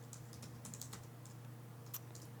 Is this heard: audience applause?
no